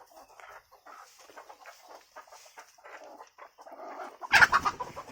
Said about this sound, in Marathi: ती कोंबडी लिमकीच अंडे देऊ लागली